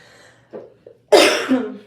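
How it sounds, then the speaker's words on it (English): A sharp, harsh cough bursts out close by after a couple of small throat sounds, then trails off. "now I can't stop coughing"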